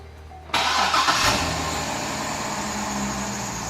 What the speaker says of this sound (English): let me go ahead and turn on the vehicle